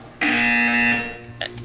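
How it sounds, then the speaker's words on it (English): A harsh electronic buzzer sounds once in the video game Portal 2, a steady tonal drone lasting under a second followed by brief clicks and blips from the game. "hear a buzzer."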